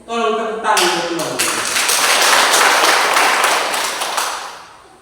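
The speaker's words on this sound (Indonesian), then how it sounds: "Tolong tepuk tangan untuk Tuhan." Church congregation clapping together for several seconds, a dense steady wash of applause that swells quickly after an opening voice and holds loud before tapering slightly at the end.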